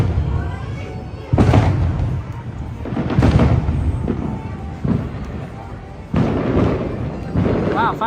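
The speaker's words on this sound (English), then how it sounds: "Wow, fireworks still going." Fireworks boom and crackle at a Disneyland night show, with heavy thudding bursts rolling out in repeated waves while crowd chatter carries underneath.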